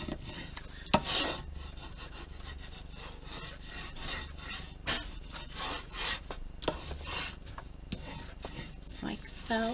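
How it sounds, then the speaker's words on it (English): A soft, close rubbing of a tool burnishing a paper lining onto a journal cover, with faint scraping strokes and a few light taps against a quiet background. "Burnish it down a little."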